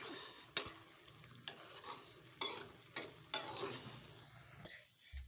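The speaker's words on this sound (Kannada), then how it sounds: "ನೀವು ಒಗ್ಗರಣೆಯಾಗ ಶಾವಿಗೆ ಹುರಿದು" Vermicelli roasts in tempering oil for upma, a soft sizzle broken by several sharp spoon scrapes and knocks against the pan at irregular intervals.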